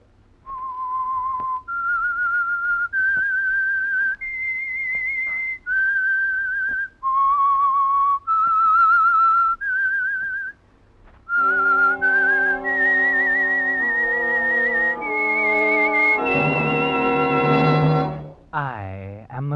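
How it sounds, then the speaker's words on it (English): A lone whistler carries the eerie theme tune of an old radio mystery program, a slow series of sustained pure notes rising and falling in clear phrases, then joined by a swelling orchestral chord that ends it. "That whistle is your signal for the Signal Oil Program"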